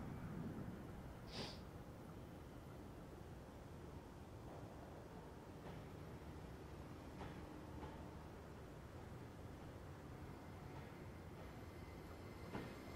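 A train in Train Simulator 2017 creeps slowly into the depot on the Portsmouth Direct Line. Its low, continuous rumble is joined by faint wheel clicks and a brief squeal near the start, all quiet and steady.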